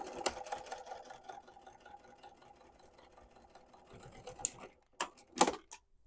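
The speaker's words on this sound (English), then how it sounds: "I'm going to sew over that one more time just to be sure that it's not going to come unsewn" A sewing machine runs steadily while stitching a quilted tote bag, a close buzzing hum that sews over a seam, then stops and gives way to a few sharp handling clicks and taps.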